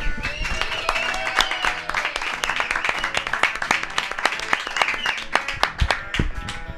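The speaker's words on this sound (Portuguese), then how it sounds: "a salva de palmas pro som dos caras" Crowd at a music gig applauding a band, sharp individual hand claps ringing out over a sustained musical backdrop, continuous and fairly close.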